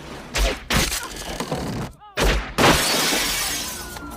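Chaotic film action scene after sniper shots: sharp impacts, a glassy shattering crash and heavy thuds over a dense, loud layer of noise, with a brief gap before another burst of commotion.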